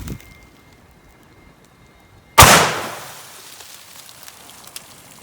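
A single 454 Casull revolver shot firing hollow point reloads booms sharply after a quiet stretch, then rings out in a fading outdoor echo.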